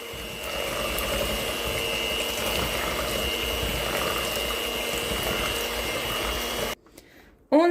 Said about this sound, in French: on fouette bien tout ça. Au mini batteur ou à la main